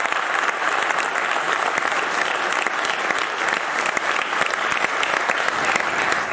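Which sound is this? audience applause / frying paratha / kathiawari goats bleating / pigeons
audience applause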